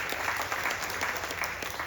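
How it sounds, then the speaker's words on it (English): An audience claps in a temple courtyard during an outdoor Ramayan performance, a dense, steady patter of applause at moderate distance. "Give them a big round of applause."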